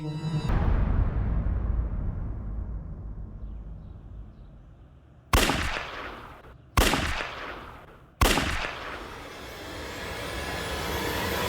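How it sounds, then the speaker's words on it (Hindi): Three loud, sharp gunshots ring out in a crime drama scene, each a sudden bang about a second and a half apart with a short decaying tail, following a low rumbling background. "सर, पड़ोसी ने 3 गन शॉट्स की आवाज सुनी है।"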